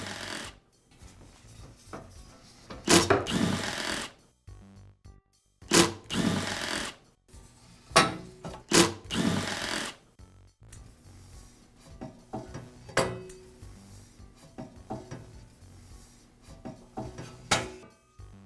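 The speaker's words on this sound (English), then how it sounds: "Now remove the manifold from the top cover." Parts of a DeWALT air compressor being handled as the manifold comes off the top cover, giving several short bursts of clattering and scraping with quiet pauses between them, close by and with no speech.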